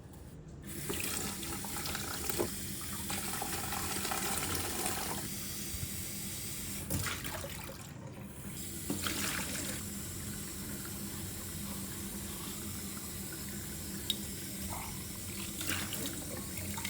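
Water draining out of a home heating system during a flush, a steady rushing and splashing flow like a running tap that carries on throughout, with no talking.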